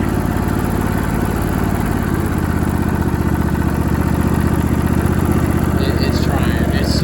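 Old Craftsman riding mower pulled from a junkyard, its engine straining to keep running with a steady, rough low drone that stays loud and close throughout, with a few faint clanks near the end.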